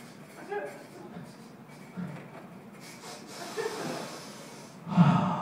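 A comedian on a comedy club stage imitates a dog's sniffing with a series of short nasal snorts and breathy sniffs, ending in a louder burst, against a noisy room.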